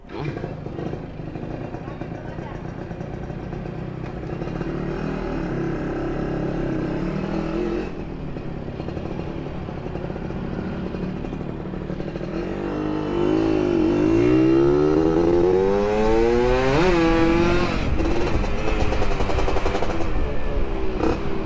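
A Yamaha F1ZR two-stroke motorcycle fitted with an R&R 3v3 racing exhaust revs hard close by, running at a rough steady idle and then climbing into loud, rising high-rev sweeps.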